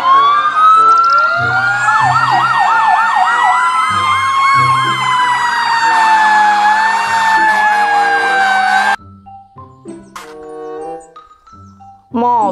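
A toy fire truck siren wails loudly in rising and falling electronic tones, then cuts off, followed by short beeps and chimes.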